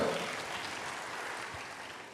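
A church congregation claps in a continuous, fairly quiet wash of applause that fades slightly toward the end.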